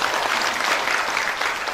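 Audience applause at a church seminar, a loud, dense and steady burst of clapping from a large crowd with no talk over it.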